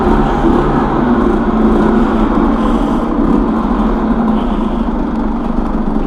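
A stock, restricted Rieju MRT motorcycle engine idles steadily and loudly up close, a continuous buzzing small-engine drone with no talking.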